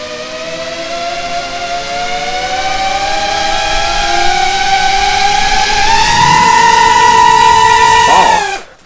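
Small FPV drone motors arm and spin up into a loud, steady multi-tone whine that rises in pitch as the quad lifts off, holding close and strong for several seconds before cutting out abruptly.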